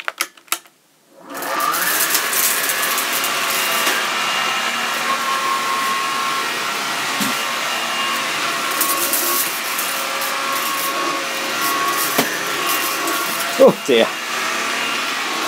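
Bosch PET bagged cylinder vacuum cleaner, red, running with a steady, close, loud whooshing drone from about a second in to the end, with a few brief bumps near the finish and a short spoken exclamation.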